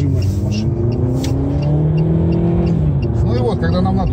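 Datsun mi-DO car accelerating on a highway, steady engine drone with rising harmonics and road noise throughout, recorded from inside, close and fairly loud; a voice speaks over the engine.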